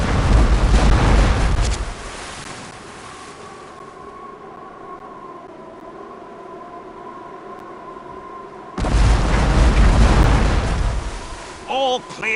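Naval cannons fire in Port Royale 2, heavy booming blasts at the start and again near the end, with a quieter droning stretch between them and voices speaking over the action.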